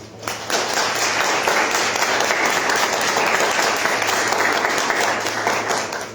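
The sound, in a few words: applause welcoming the speaker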